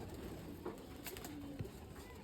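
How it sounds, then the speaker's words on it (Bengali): Pigeons, a batch of young birds, being let go from above; soft cooing and calls come through faintly over a steady low background hum, with a brief flutter-like burst near the middle. "সব কবুতর ছাড়া হয়ে গেলে আপনাদেরকে আর দেখাচ্ছি"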